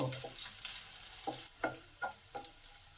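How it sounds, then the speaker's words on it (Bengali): Steady sizzling of garlic frying in hot oil, with a few soft utensil scrapes as it is stirred. "এই রসুনটাকেও একটু ভালো করে ভেজে নেব"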